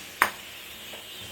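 Raisins frying in ghee for dry fruit laddu: a single sharp clink or scrape of a spoon against the pan near the start, then a faint, steady sizzle.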